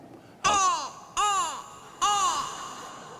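A person imitates a hoot owl but it comes out as a crow's caw: three loud, harsh, nasal calls spaced about a second apart, each with a sharp onset and a falling tail, close to the microphone with no other sound around them.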